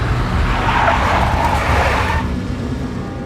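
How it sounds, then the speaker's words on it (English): A big black Mercedes in the video game Max Payne, its engine roaring loud and close while the tires skid and squeal for a couple of seconds before the sound eases off. "A big black Mercedes."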